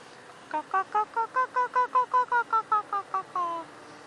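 A person's voice imitates a hornbill's call, a loud run of about fifteen evenly spaced hooting notes in a steady rhythm, ending on one longer drawn-out note, heard up close during a safari at a private game reserve.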